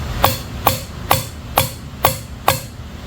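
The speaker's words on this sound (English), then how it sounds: "I'm going to take a rubber hammer and just" A rubber hammer taps the valve spring keepers on the cylinder head of an old tractor engine, giving six sharp, evenly spaced strikes about half a second apart, close and clear.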